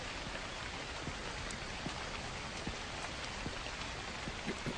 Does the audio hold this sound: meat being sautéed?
no